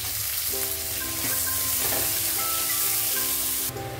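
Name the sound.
chopped onions frying in oil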